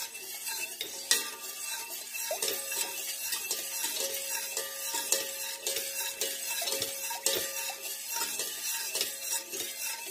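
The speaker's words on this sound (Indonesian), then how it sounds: "diaduk-aduk terus ya, biar enggak ini" A whisk or utensil scrapes and stirs steadily around a pot of vanilla custard made of egg yolks, milk, sugar and cornstarch, with repeated soft scraping and light clinks against the metal, close up and continuous with no talk.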